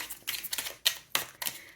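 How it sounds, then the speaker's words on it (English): Tarot cards being shuffled up close: a few quick bursts of crisp, papery riffling and clicking, separated by brief pauses, with no voices. "then I'll shuffle these cards and pull out an answer"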